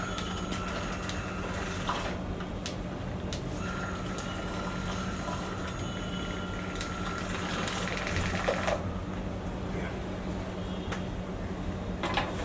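A blender whirs continuously as it mixes bulletproof coffee, a steady droning motor hum holding at an even level throughout, with faint rattling on top.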